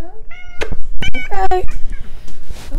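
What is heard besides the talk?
cat meowing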